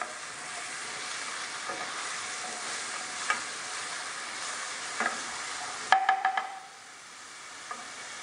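Onion frying in a little oil, a continuous soft sizzle with occasional scrapes and a brief burst of spoon clatter against the pan before the hiss quiets down.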